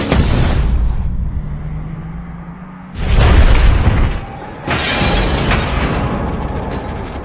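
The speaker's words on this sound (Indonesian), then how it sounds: "Sampai mobil itu meledak dengan cepat" A Ford Mustang GT explodes in a film car crash, a series of loud booming blasts: one big burst at the start, a heavier one about three seconds in and another soon after, each with a rumbling tail.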